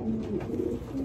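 Soft pigeon cooing in a loft of racing pigeons, a low throaty murmur repeating under steady background noise, fairly close and moderately loud, with no talking.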